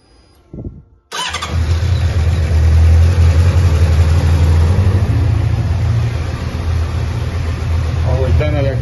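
A Honda CBF 600 motorcycle engine cranks and fires after a moment of quiet, then settles into a loud, steady, close idle, with a voice speaking briefly before it starts.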